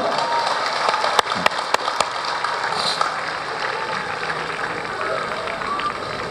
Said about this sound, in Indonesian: Tepuk tangan yang kedua lagi dulu.